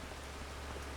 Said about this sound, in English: I just hate that it's raining all day. The rain is killing us.